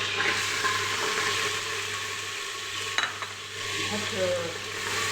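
Onion fries in oil in a pot for Algerian barley couscous, giving a steady, close sizzle that runs throughout with a faint clink midway.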